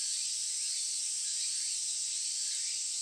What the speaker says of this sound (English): The screams of the cicadas echoes in my ears.